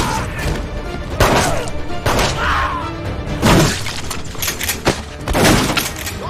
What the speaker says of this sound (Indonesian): John mengambil bekas peluru musuh dan baku tembak pun dimulai.